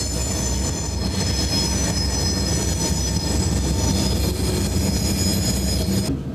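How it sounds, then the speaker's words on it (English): Freight train on the Monongahela Railway rolling past close by, a steady loud rumble of railcars with squealing wheels and a faint clickety-clack throughout, no voices. "These trains are from New York Electric and Gas."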